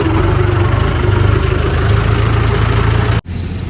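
A tractor engine idles steadily and loudly with a high trolley of bricks hitched behind, a low rumbling throb that holds constant before a sudden brief dropout near the end.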